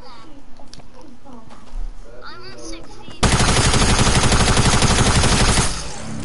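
A tactical SMG in a video game fires a long, dense, rapid burst, loud and close, lasting a few seconds after a stretch of quieter game sounds and a talking voice.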